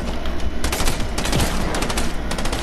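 Rapid bursts of automatic gunfire in the video game Fortnite, loud, close and dense, with a few sharper volleys in quick succession and no talk.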